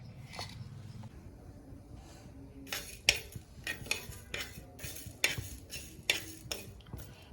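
Coriander, fennel and cumin seeds being roasted in a pan for ginger and green chilli pickle, heard as irregular metallic scrapes and clinks of a utensil against the pan, moderately close, with no voices.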